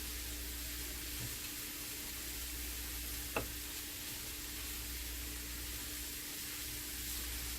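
Cauliflower rice frying in a small pan, a steady soft sizzle holding at an even level throughout, with a single brief click of a utensil partway through.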